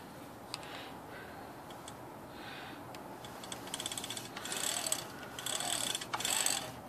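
An IBM Wheelwriter typewriter's carrier motor runs after a cracked gear was repaired, giving soft, faint whirring gear and mechanism sounds in short bursts, quiet and close, with a few light ticks.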